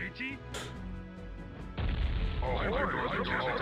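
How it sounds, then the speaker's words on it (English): Cannon towers fire in the Warcraft 2 strategy game: a sharp crashing boom bursts in partway through, followed by a loud, sustained rumbling blast, with game effects and someone talking over it. "There's a cannon towers everywhere."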